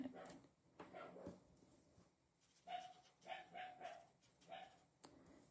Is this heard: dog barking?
yes